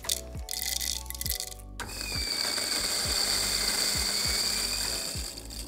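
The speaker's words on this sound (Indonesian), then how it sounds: "Sebelumnya mau aku bersihin dulu grindernya." A Latina LT-600N coffee grinder whirs with a steady motor hum, opening with a rattling, clattering passage, then a short pause before a continuous grinding drone with repeated low knocks.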